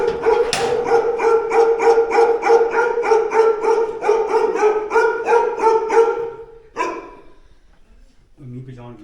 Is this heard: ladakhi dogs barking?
yes